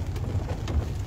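Heavy rain pouring during flooding in La Ceiba, Atlántida, Honduras, a brief, dense, steady wash of falling water with a low rumble beneath it.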